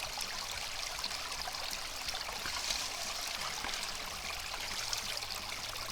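Water flowing through a sluice box during gold prospecting, a continuous soft rushing and trickling stream, fairly faint and even throughout with no voices.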